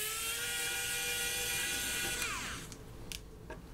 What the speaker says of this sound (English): The Wowstick has no problems with those tiny screws.